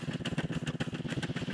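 A small mini car engine in the building game Scrap Mechanic idles with a rapid, even putter, a buzzy rhythmic chug close and steady throughout.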